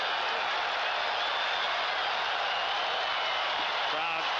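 A baseball stadium crowd at a 1982 playoff game keeps up a steady, distant roar of cheering and clapping, a continuous wash of noise under a broadcaster's voice.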